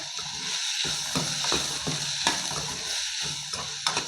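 Green peas tossed with garam masala and chaat masala in a hot pan, a steady close sizzle with scraping stir strokes at irregular intervals.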